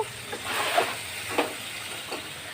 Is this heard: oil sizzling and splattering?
yes